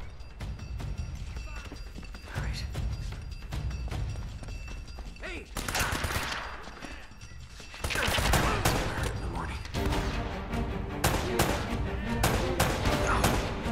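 Gunfire in Uncharted: Drake's Fortune comes as bursts of sharp shots and rapid volleys over about fourteen seconds, loud and close, mixed with thuds and impacts.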